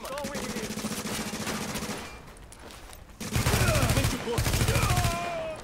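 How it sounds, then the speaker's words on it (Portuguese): Gunfire in The Division online co-op shooter comes as rapid automatic bursts, one long string and then two heavier, louder bursts, with faint player voices underneath. "Não para de atirar!"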